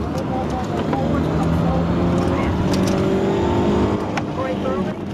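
A car engine hums steadily while driving on a track with light throttle, a constant droning rumble heard from inside the car with a faint rising tone partway through.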